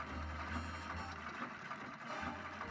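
Mechanical whirring of a sewing machine stitching a dress in a Nancy Drew video game set in the 1930s, a steady low hum with a rapid clattering rhythm that briefly pauses before resuming.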